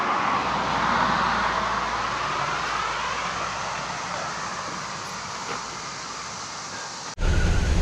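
An abandoned GMC TransMode motorhome, revived after more than 15 years, drives along with a steady engine and road roar heard from inside the cabin, loud and continuous, cutting off abruptly near the end before a brief louder burst.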